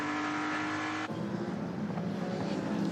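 Endurance race cars run on the São Paulo circuit during a six-hour WEC race, and an engine's drone cuts off abruptly. A rougher, broadband roar of cars on track then fills the rest, loud and continuous.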